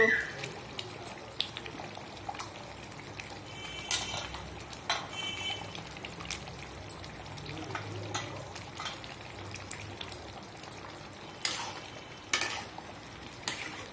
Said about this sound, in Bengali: এখন আমি দিয়ে দিচ্ছি মাংস।